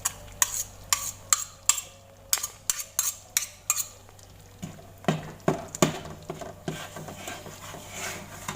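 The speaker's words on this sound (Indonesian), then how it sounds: "Jadi kita aduk sampai kacang ini rata ya" Peanut sauce for rujak stirred briskly in a bowl, a steady run of close scraping taps with a utensil knocking the sides in an even rhythm, no voices over it.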